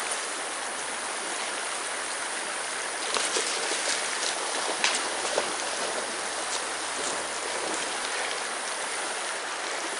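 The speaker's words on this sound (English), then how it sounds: "So we're just cooling off here down by the river." A river rushes steadily and loudly nearby, a dense continuous wash of flowing water with a few faint splashes and no voices.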